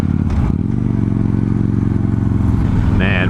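A 2015 Victory Vegas 8-ball motorcycle under way, its engine giving a loud, steady low throb with a pulsing rumble close up, mixed with wind noise throughout.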